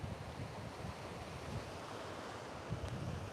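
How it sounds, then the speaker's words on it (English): Pacific Beach surf rolls in as a steady, broad wash of waves, mixed with wind buffeting the microphone, with no voices over it. "Steady your gaze out over the ocean."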